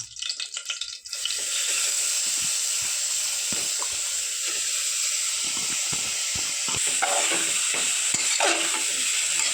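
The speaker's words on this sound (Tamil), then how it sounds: "நெய்யோடு சேர்த்து நம்ம கேரட்டை வதக்கிக்கலாம்." Grated carrot sizzles steadily in melted ghee in a cooker while a spoon stirs and scrapes through it, giving a constant close hiss broken by soft scraping taps.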